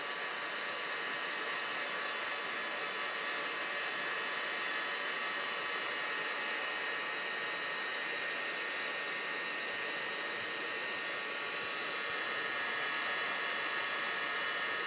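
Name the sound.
heat gun shrinking heat-shrink tubing onto a wire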